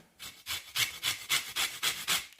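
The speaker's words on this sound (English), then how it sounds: "So I'm gonna put a little bit of zest in it." A lemon is zested on a grater for a fennel and avocado salad, giving about eight rhythmic rasping strokes in steady succession, close and fairly quiet, with no talking.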